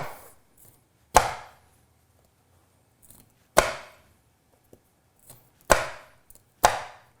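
A knife chopping through corn cobs into rounds, four sharp separate thuds on a cutting board spaced a couple of seconds apart, close and crisp with near silence between.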